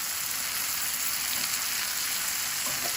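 Onions, carrots and other vegetables for japchae frying in a pan, a dense, even sizzle hissing continuously at close range with no voices.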